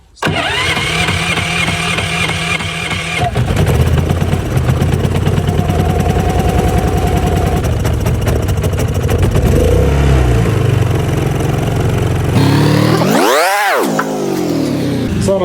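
A Matari M4000I generator is started for a test run and keeps running, a loud close mechanical engine roar with steady churning and a rising-falling whine near the end.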